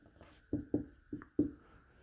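Someone writes out an equation by hand, making four or five short, quiet strokes in an irregular rhythm in a hushed room.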